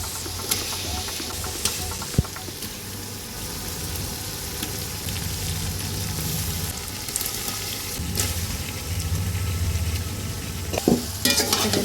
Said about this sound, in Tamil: எடுத்து வச்சுருக்க சிக்கனை அதோடு சேர்த்துக்குவோம்.